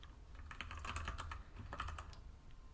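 Steady computer keyboard typing, a continuous patter of keystrokes with irregular bursts, close and fairly quiet, with no voices over it.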